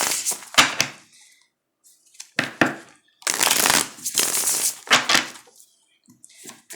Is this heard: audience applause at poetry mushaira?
no